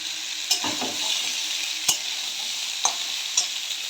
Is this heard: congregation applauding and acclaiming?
no